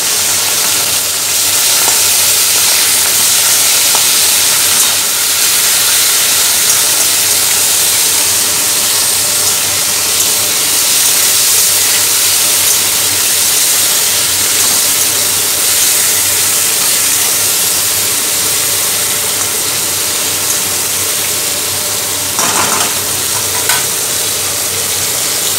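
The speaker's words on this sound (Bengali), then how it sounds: "তেলটা গরম হয়ে গেছে, দিয়ে দেবো ওই চিংড়ি মাছগুলো," Salt-and-turmeric-coated shrimp fry in hot oil, a loud, dense, unbroken sizzling hiss that holds steady from start to finish.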